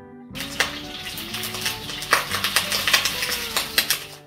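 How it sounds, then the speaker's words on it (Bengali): Sliced onion tipped into hot oil with bay leaves for a Bengali potato-tomato jhol, sizzling and crackling steadily in a pan, with spoon stirring and metal clinks over the constant fry. "এবার দিয়ে দিচ্ছি পেঁয়াজটা।"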